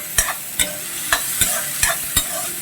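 Beans stir-fried in a pan for a vegetable pasta, with a steady sizzle under six evenly spaced scrapes of a spatula against the pan, close and clear, and no voices.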